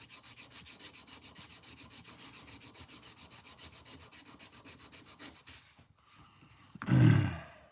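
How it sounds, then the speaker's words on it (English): Quick, rhythmic rubbing strokes of wet sanding on a Case Trapper knife blade repeat steadily for several seconds, then stop, followed by a brief louder rustle. "you don't dry sand it, you wet sand it"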